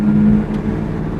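A Ford Mustang engine idles steadily with a low, even rumble and a faint hum, close by and fairly loud, holding constant for about a second without any speech.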